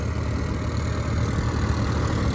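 A tractor engine works under load, giving a loud, steady, low diesel drone that holds without a break and with no voices.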